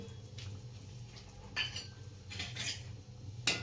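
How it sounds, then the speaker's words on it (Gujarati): A spoon clinking against a pot while stirring tuvar totha, a Gujarati pigeon-pea curry, in a home kitchen; sparse metallic taps and scrapes at a quiet level. "તો મિક્સ કરી દઈશું"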